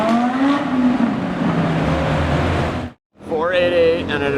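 A Ferrari 488 and a Lamborghini Aventador S roar past in a row, a loud close engine pass with rising and falling pitch, a brief gap, then the second car revving by, with voices over it.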